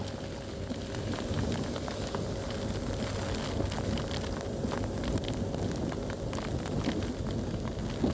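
Steady rain pours down during a motorcycle ride on a Central Java touring route, a dense continuous hiss with light wind buffeting the microphone, no voices.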